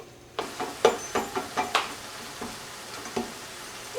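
Ground turkey browns in a pan with a steady soft sizzle, broken by a series of sharp scraping stirs from a utensil against the pan, close by and with no talking.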